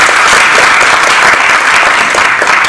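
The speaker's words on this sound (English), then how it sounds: "Give a clap again to all the first presenters." Dense, steady applause from a forum audience, many hands clapping together in a continuous loud wash with no gaps and no talking over it.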